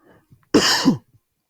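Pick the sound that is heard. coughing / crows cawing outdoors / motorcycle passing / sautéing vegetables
coughing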